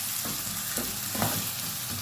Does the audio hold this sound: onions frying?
yes